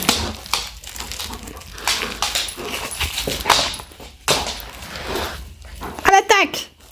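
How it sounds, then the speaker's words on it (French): Dog barking and growling sounds break out in short bursts amid lively voices, with whimpering and scuffling noises mixed in, close by and fairly loud. "Attention, chien féroce!"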